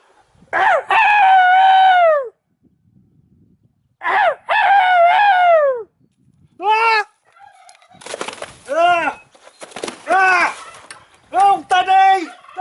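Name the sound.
rooster crowing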